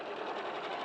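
A sewing machine runs a line of stay stitching within the seam allowance, humming in a steady, fast, close buzz with no pauses and no voices.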